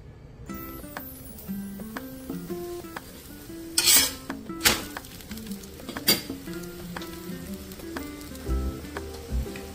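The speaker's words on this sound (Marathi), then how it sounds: "आता हा दुसरा पराठा टाकून घेते।" Paneer paratha laid on a hot pan to fry, a soft continuous sizzle under scraping and clinking of a spatula, with a few sharp louder knocks, no talking.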